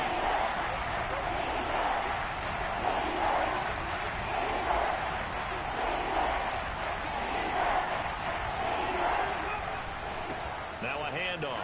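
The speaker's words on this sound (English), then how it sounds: "Here comes a big one as this crowd gets out making some noise." Football stadium crowd roaring on third and short, a dense continuous din of cheering and shouting that stays loud and steady throughout, with scattered thumps.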